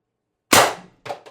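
A Umarex TR50 air rifle, tethered to a 48 cubic inch tank with an adjustable regulator, fires one loud, sharp shot with a short decaying tail, followed by two quieter clicks or echoes.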